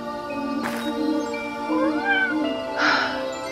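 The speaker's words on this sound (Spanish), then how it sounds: "Apareció el gato Regordete y rescató a Diana del peligro" A cartoon cat meows twice, with a brief noisy burst early on, against a soft steady musical background with no speech.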